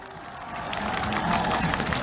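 Crowd applause breaks out for young girls after their performance at the 2019 Tedim Khua Do Pawipi festival, a dense, steady clatter of clapping that swells over two seconds with some cheering mixed in, close and fairly loud.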